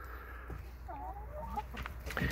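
Backyard coop chickens give soft, close clucks in a few short bursts over a low steady background hum, with no talking.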